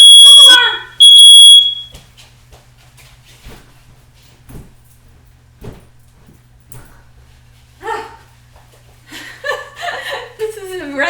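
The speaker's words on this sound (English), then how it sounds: "Oh, the smoke alarm!" A smoke alarm beeps shrilly and loudly in a quick burst, then stops; a low hum continues with scattered knocks, a dog barks and people laugh and talk nearby.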